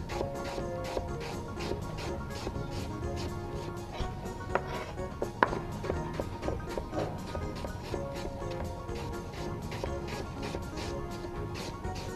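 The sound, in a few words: knife slicing apples thin for caramel apple coffee cake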